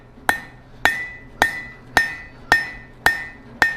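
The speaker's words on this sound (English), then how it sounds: "Some heavy hammer blows, lightening up as I move forward." A blacksmith's hammer strikes hot steel while forging a center punch on an anvil, seven evenly spaced, loud ringing blows with bright metallic decay between each.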